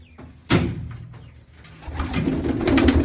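Pigeons coo and flutter nearby after a sudden thump, their soft calls rising and layering over rustling movement.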